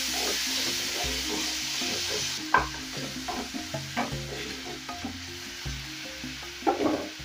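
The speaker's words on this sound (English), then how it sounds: "Add in my tomatoes, but this is once my garlic has become fragrant." Tomatoes added to garlic already sizzling in a pan for fish stew, giving a steady frying hiss broken by a sharp burst and several soft stirring knocks, close by, alongside a low background melody.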